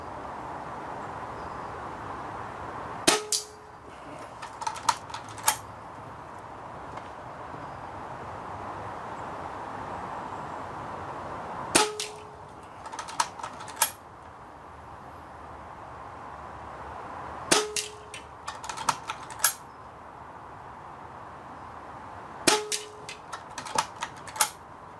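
Hatsan Gladius air rifle firing Silco pellets at a target 25 to 50 yards out: four sharp, evenly spaced shots, each a crisp crack followed by a short run of clicks, over a steady outdoor hiss.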